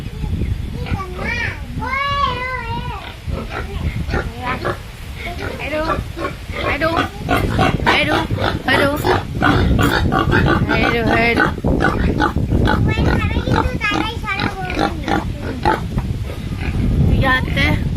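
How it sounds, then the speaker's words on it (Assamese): Pigs grunt and oink repeatedly and close by, with children talking and playing throughout. "এইয়া গাহৰি"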